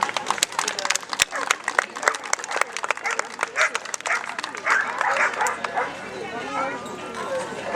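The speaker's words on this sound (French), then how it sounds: "Pour ça, il faut qu'il aboie." A rescue dog barks repeatedly in quick, loud bursts after finding its target during a search demonstration, with people talking over and between the barks.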